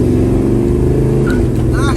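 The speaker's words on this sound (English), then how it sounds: "Nice second gear chirp." A 1965 Chevrolet Chevelle under hard acceleration, a loud close engine drone that stays steady, with a brief tire chirp as it shifts into second gear.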